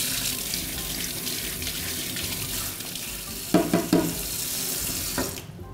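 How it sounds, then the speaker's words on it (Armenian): Tap water runs steadily into a kitchen sink while a stand mixer's beater attachment is rinsed, with a few clanks of metal against the basin before the flow cuts off. "Հարիչի թաթիկը լվանանք։"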